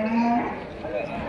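A cow moos once, a short, fairly close low call, at a busy Tuesday cattle market in Kalghatgi, Karnataka.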